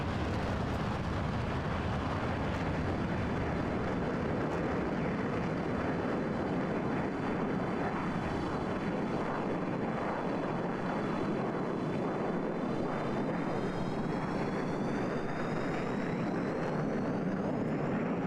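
Two F-16 fighter jets flying in a video game air combat match, a loud constant jet roar with thin whining engine tones that rise in pitch toward the end, no voices.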